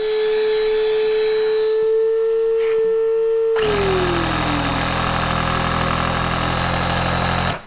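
An electric air pump hums steadily, then its motor kicks in with a loud, close, continuous roar of blowing air that runs unbroken to the end.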